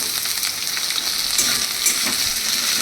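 Grated coconut drops into a hot pan of mochar ghonto (banana flower curry), setting off a steady, close sizzle with faint scraping of stirring over about three seconds, no voices.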